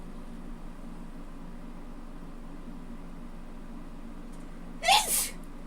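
One sharp sneeze bursts out near the end, close and loud against a steady low hum of room fan or air conditioning.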